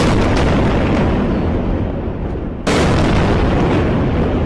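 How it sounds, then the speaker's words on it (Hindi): Airstrike bombing brings down a media tower in Gaza: a sustained, very loud roaring rumble of explosion and collapse, dipping briefly before a second sharp blast renews the roar. "गजा में मीडिया हाउसेज वाले टावर अल जला पर बमबारी"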